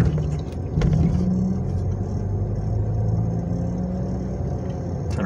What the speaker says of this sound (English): Kind of rough on this poor old car suspension.